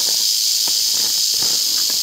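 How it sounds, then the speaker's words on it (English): Rattlesnake shaking its tail rattle outdoors, a steady dry buzzing hiss that carries on without a break, close and fairly loud. "Rattlesnake. That tail's going a million miles an hour."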